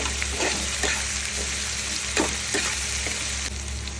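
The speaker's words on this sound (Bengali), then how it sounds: "1 চা চামচ সেই আদা রসুন কাঁচা লঙ্কা বাটা করে নাড়িয়ে দিচ্ছি" Ginger, garlic and green chilli paste frying with onions in a pan, a steady broadband sizzle with a few soft scrapes of stirring.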